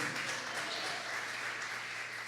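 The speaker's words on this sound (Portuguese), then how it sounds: "Dê uma salva de palmas ao Senhor." A congregation at a church prophetic conference claps together in praise, a soft, continuous patter of applause with a faint low hum beneath it, steady from start to end.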